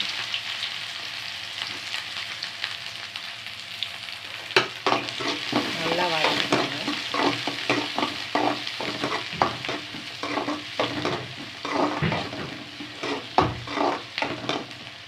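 Onion and mustard seeds sauté in oil in a pan, a loud steady sizzle broken by a quick, rhythmic run of spoon scrapes and taps against the metal, close by and without any voice.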